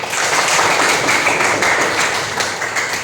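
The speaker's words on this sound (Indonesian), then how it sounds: "Tepuk tangan dulu." Loud, sustained clapping from a group of participants in a workshop session, a thick, rapid patter of many hands at close range without a break.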